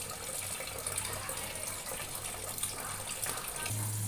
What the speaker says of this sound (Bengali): একটা একটা করে ধুয়ে নিচ্ছি